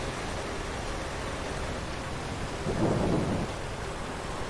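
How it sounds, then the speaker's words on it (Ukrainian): Steady rain in Farming Simulator 22 pours throughout, a dense even hiss with a low rumble swelling briefly in the middle. "О, і дощик став."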